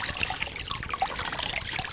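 Cold water poured over lifted feet during hydrothermal therapy, a steady close trickling and splashing stream that runs continuously without talk.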